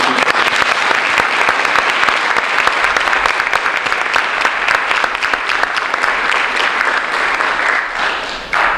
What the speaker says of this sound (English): So I would like to extend a round of applause for our amazing officers.